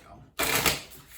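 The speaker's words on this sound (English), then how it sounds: "Let's give these a couple shuffles here." Tarot cards shuffled by hand in a fast, dense riffling burst that starts suddenly after a short quiet pause, close and fairly loud.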